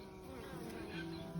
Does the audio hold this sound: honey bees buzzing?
yes